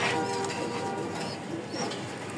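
Pigeons cooing at a pigeon farm where birds sit with their chicks, soft low coos repeating over a constant hum of background noise, moderately near and without speech.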